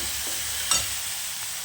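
Moong dal with turmeric sizzles steadily as it is sautéed in a pan for fenugreek bhaji, a continuous close frying hiss with one brief stirring scrape partway through. No one speaks.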